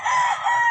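An old rooster or fowl gives a loud, close, sustained throaty crowing call lasting under a second, with no talk over it.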